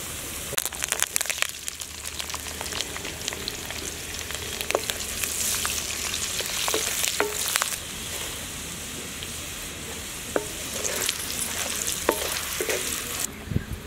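Garlic, cumin, mustard seeds, coriander and dried red chillies frying in hot oil for a sambar tempering, a steady close sizzle with frequent spoon stirs and scraping clicks throughout.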